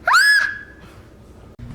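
A high, piercing scream sound effect from a show intro rises quickly and holds a shrill tone for under a second, loud and up front, then trails into quiet.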